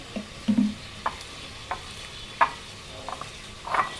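Wet squelching and soft slaps from a hand mashing boiled lentils together with mustard oil, chopped onion and coriander leaves, heard as a few short, close, isolated bursts against a quiet background.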